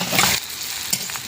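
Onion and crushed ginger sizzle loudly in a pan while being stirred, a brief close burst of hissing frying with a scraping stroke, no speech.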